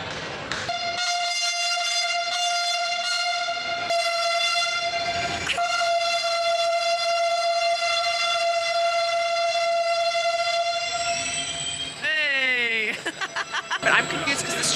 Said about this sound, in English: Apparently it's a new train coming in.